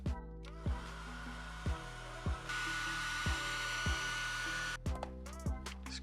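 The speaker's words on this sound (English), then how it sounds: "I just got a little hairdryer here. So I'm gonna want to heat up the front of the glass display" A small hair dryer heats the front glass display of an old phone, giving a steady, close whirring blow, interrupted by repeated short rhythmic thumps and clicks, with the airflow louder through the middle stretch.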